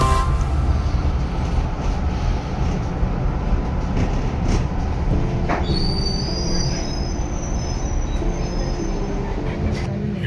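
A tram at a tram station in Australia rolls through, a loud, close rumble of wheels with sharp high squeals rising partway through and scattered clanks, with no talk.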